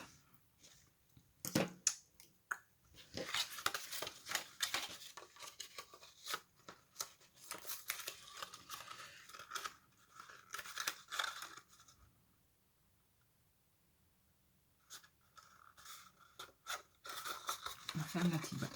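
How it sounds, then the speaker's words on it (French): Protective film peeled off adhesive tape while assembling a small diamond-shaped box gives scattered crackly tearing and rustling, close and sharp, in uneven bursts with a quiet pause near the end. "on enlève le scotch, l'opercule, protection du scotch, comme vous voulez."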